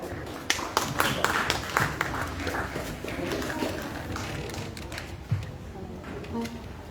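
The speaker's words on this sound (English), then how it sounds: "Let's give a big round of applause for Shamanda and Kayla." An audience at an event in Samoa gives scattered, uneven applause for two University of the South Pacific students, the claps sharp and distinct at first, then thinning out under some talking.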